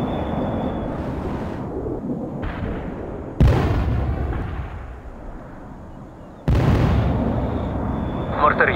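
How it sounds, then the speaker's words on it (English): Artillery bombardment in the real-time strategy game World in Conflict, with heavy booming shell impacts that swell and decay, arriving in bursts amid continuous battlefield rumble. "Fire bombardment."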